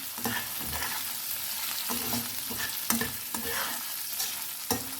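Moong lentils cooking in a hot pan give a continuous close sizzle with scraping stirs and occasional louder crackles, no voices.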